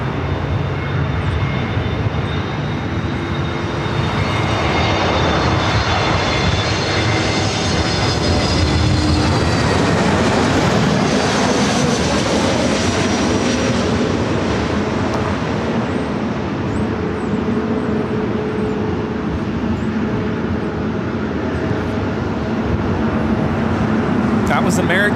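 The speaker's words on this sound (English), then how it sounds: "we also have an Air Tahiti Nui Dreamliner heading up here for north side at takeoff" An Air Tahiti Nui Dreamliner jet takes off at LAX, a loud, sustained engine roar that builds and holds across the whole stretch, with radio chatter and talk running over it.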